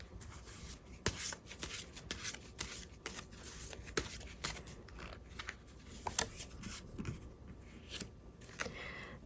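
Tarot cards are shuffled close by in a steady run of crisp riffling and sliding flicks, repeated throughout, with no talking over them.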